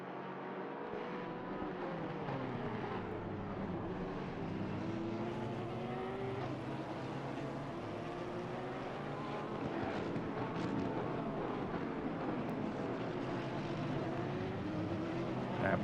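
Race cars in a sim-racing league event at Misano roar continuously with steady engine drone and rising and falling pitch sweeps as several cars pass through a chicane. Commentary voices talk over the racing sound.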